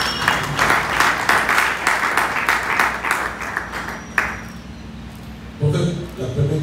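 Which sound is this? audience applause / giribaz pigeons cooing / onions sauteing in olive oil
audience applause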